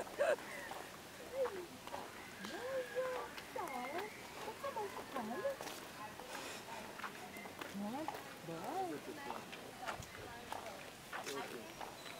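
A chicken clucks in soft, irregular bursts on a Jamaican outing near Dunn's River Falls, Ocho Rios, with voices chattering and footsteps moving through the scene.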